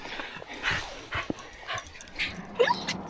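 Shadow, an excited dog running around in sand, yips and whimpers in a string of short high cries over a soft outdoor background, with no talking.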